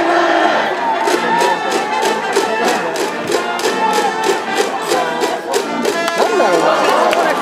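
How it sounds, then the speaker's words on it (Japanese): Fans in the stands at a Japanese high school baseball game between Nichidai Sanko and Soka cheer and applaud in a loud, continuous roar. Rhythmic chanting and clapping run through it, and there are voices in the crowd. "大きな拍手が沸いてます。"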